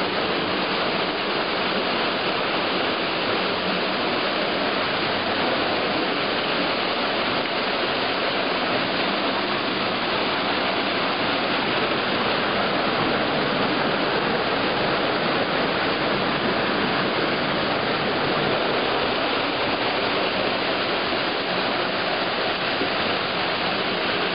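Water rushes over a man-made weir on a Carpathian mountain stream, a loud, close and unbroken roar of falling water that holds steady throughout with no voices.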